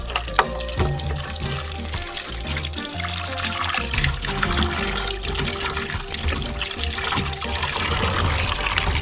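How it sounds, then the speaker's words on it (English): Chicken pieces are washed under running water in a Jamaican kitchen, with a steady rush and splash of flowing water and occasional knocks throughout, close and continuous. "Now we are going to wash them off and get them cut up"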